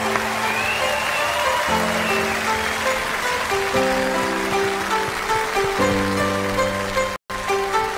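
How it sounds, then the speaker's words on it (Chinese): A TV studio audience applauds in a steady, moderate patter beneath sustained background music, with a brief dropout near the end. "掌声鼓励"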